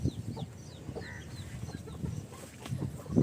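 Country chickens cluck and chirp nearby on a small farm, scattered short calls overlapping throughout against soft background noise.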